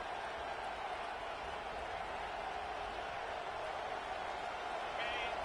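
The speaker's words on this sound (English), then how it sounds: "Now the crowd responding in the red zone, trying to help this defense." A stadium crowd in the College Football 25 video game roars in a steady, dense wash of cheering as the defense holds in the red zone, moderately loud and continuous throughout.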